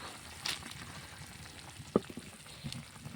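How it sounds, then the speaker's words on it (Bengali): Fish curry bubbling briskly in a covered pan on the stove, a steady low sizzle and simmer with a few sharp pops and clicks scattered through. "তরকারিটা কষে জলদি চাপিয়ে দিয়েছিলাম, দেখছেন কী হারে ফুটছে"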